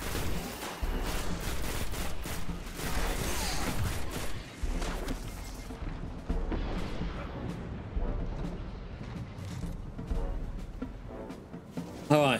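Rapid bursts of auto rifle fire from the video game Destiny, loud and dense throughout, mixed with heavy explosive booms and crashes of combat.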